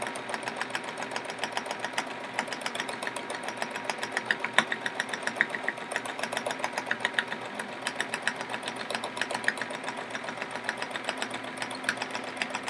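A sewing machine stitching steadily during free motion quilting on a chevron practice quilt, a fast, even mechanical rattle running continuously at close range with no speech.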